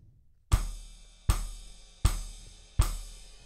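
Drum kit ostinato with hands playing chord notes over bass drum: four loud, evenly spaced crashing hits with long ringing decay, each struck together with a deep kick, alone without talk.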